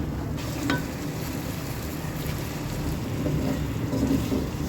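Green chillies and spices fry in ghee for an achari green chilli dish, giving a steady, close sizzle with occasional stirring scrapes running throughout, and no voices.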